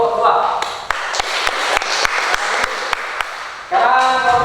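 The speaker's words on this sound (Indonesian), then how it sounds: "tepuk tangan untuk kelompok 2" Classroom applause for group 2 fills the middle of the clip as a steady burst of clapping with a few sharp, evenly spaced taps. A teacher's voice talks just before and right after it.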